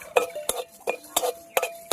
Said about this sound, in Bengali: ধনে আর জিরে একসাথে ভেজে নেব।